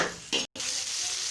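Onions fry in a pan for an okra curry, giving a steady broadband sizzle with stirring scrapes, broken by a brief dropout midway, with no voices.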